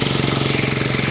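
A hand tractor's motor chugs loudly and steadily while tilling a rice field, its rapid, even engine pulses running without a break from start to finish.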